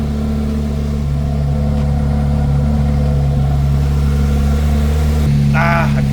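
A modified C8 Corvette Z06 engine runs steadily just after a cold start, a loud continuous drone with strong low harmonics and a brief rise in pitch near the end, with no voices.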